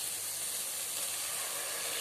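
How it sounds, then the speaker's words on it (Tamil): A ladle of chicken kurma goes into a hot frying pan over sautéed ingredients, giving a steady, even hiss of sizzling and steam close by without break. "ஒரு கரண்டி இந்த குருமா ஊற்றிக்கலாங்க."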